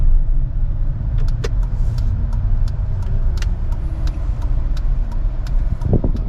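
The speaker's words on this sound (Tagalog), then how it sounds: "medyo malakas ang electric na nabili ko na motor" A DIY electric-converted car driving in fourth gear under its electric motor: a steady low road rumble with faint whine, light ticking clicks from the cabin, and a brief thump near the end, no talking.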